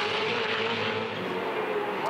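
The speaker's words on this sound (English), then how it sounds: "And the cars just sound magnificent in that spot." Supercars race cars flat out near 300 km/h at Bathurst during a practice session, a loud continuous engine roar with a commentator talking over it.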